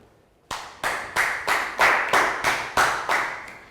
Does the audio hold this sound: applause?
yes